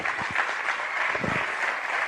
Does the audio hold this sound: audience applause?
yes